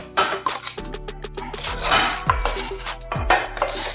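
A utensil scraping food off the bottom of a pan while cooking a chicken fajita frittata, close repeated rasping strokes with metallic clatter and scrubbing bursts, loud and alone.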